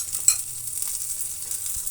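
Mustard seeds crackle in hot oil during tempering for brinjal gojju, a steady close sizzle with a sharp pop near the start and a soft stirring rumble underneath, no voices.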